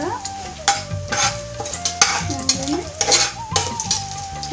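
Ingredients frying in hot oil in a pan, a steady close sizzle with repeated stirring scrapes and clinks of a utensil against the pot over the 4.5 seconds, with music-like tones in the background and no talking.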